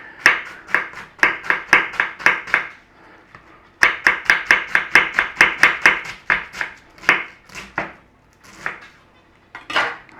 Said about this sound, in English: Right, we need to slice our cabbage. Nice and steady, don't rush it.